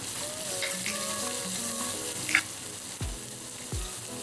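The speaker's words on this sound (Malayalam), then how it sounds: "എന്നിട്ട് നമുക്ക് വേഗം തന്നെ നമ്മുടെ ചുവന്നുള്ളി ആഡ് ചെയ്ത് കൊടുക്കാം" Shallots sauté in hot oil with ginger for a Kerala mixed vegetable thoran, giving a steady close sizzle with light stirring scrapes and a couple of soft knocks from the pan.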